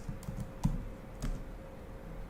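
Soft keystrokes on a computer keyboard tap in irregular bursts under a faint steady hum, fairly quiet and close, with no talking.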